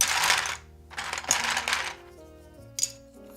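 A pile of plastic keyboard keycaps for a Zoom64 HE build clinks and rattles in three bursts, first two long and loud, the last a short sharp clatter, with steady quiet between.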